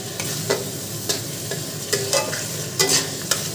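A spice masala is stirred and sautéed in a pan with a little water. Each stir gives a soft scrape, and steady close sizzling runs underneath.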